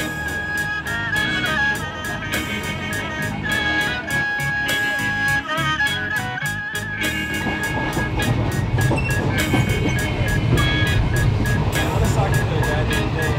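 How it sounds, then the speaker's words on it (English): Passenger train ride from Bangkok to Ayutthaya: steady rumbling carriage noise with a rhythmic clickety-clack of wheels over rail joints, continuous and close, with a faint tonal hum and scattered clatter throughout. "Sitting in a train that you pay 15 baht."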